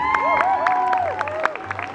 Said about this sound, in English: One more time, a big round of applause for Hālau Kumu